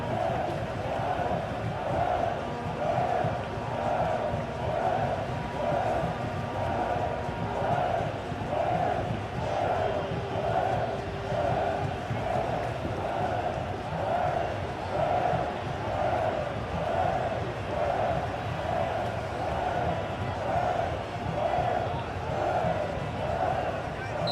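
Stadium crowd noise from a simulated La Liga football match between Athletic Bilbao and Barcelona, a dense, steady roar with rhythmic chanting swells that runs throughout under a commentator's voice.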